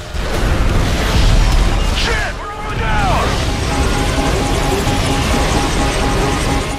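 Helicopter action in the Xbox 360 game Call of Duty: Modern Warfare 3 is heard as loud booms and whooshing bursts with mechanical rotor noise, a brief dip, then sustained engine drone, all mixed with game effects.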